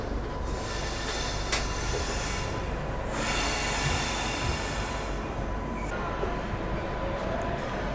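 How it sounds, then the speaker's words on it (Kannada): Nizamuddin Rajdhani Express rolling into Guntakal Junction, a steady rumble of coaches and wheels on rails with brief high squeals and a sharp click, heard from on board, continuous and moderately loud. "ನಿಜಾಮುದ್ದೀನ್ ರಾಜಧಾನಿ ಎಕ್ಸ್ಪ್ರೆಸ್ ಈಗ ಎಂಟ್ರ್ ಆಗೈತೆ ರೀ ಗುಂತಕಲ್ ಜಂಕ್ಷನಿಗೆ"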